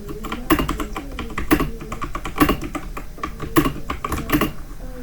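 Typing on a computer keyboard during a graphic design lesson in InPage Urdu software, with rapid close key clicks and regular louder strokes, likely the spacebar, in a steady rhythm with no talk.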